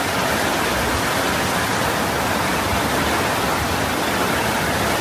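A flooded river in Oregon rushes during rain, a loud, dense, unbroken roar of fast water filling the whole scene.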